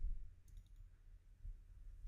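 Two faint, quick mouse clicks sound close by against a low background hum while working in SolidWorks CAD software, soft and brief with nothing else heard.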